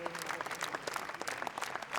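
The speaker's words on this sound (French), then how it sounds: "Vous êtes applaudi par le public" Audience at the Cannes Film Festival applauding, a faint, steady patter of many hands clapping together without pause, heard from a distance.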